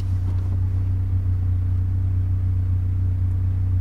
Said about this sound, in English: I put my car into neutral while the clutch is depressed, and I come to a stop.